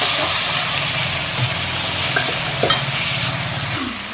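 Chopped tomatoes fry in a pan, with a loud continuous sizzle and occasional scraping strokes as they are stirred.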